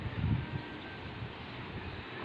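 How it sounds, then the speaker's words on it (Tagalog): Soft seaside wind rumbles and buffets the microphone at low volume, with a brief stronger gust near the start, then a steady faint rush. "Mahangin."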